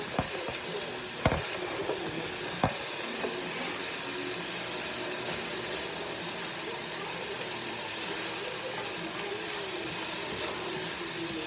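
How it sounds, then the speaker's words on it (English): Onion and chayote squash sautéing in coconut oil in a home kitchen pan, a steady close sizzle with a couple of sharp utensil knocks early on. "she just added some onion to the pear squash. And she put the coconut oil in there to saute it."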